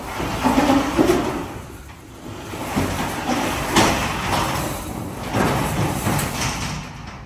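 Several rolling, scraping slides and knocks of heavy stall and barn doors being pulled shut, spaced out over a steady background hum.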